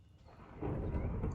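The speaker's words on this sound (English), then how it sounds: "Does yours make the thunder sound when it strikes lightning now?" Rumbling thunder from a lightning strike in Minecraft, a low roll that swells halfway through and stays loud to the end.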